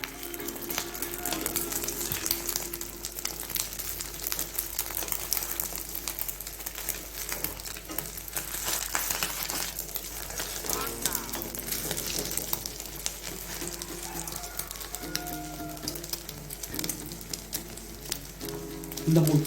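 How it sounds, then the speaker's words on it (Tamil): Quail eggs sizzle and crackle steadily in hot oil in a pan, a loud continuous frying hiss with busy spattering throughout, no talk over it. "இப்போ இதை அப்படியே நல்லா இதை வேக விட போகிறோம்"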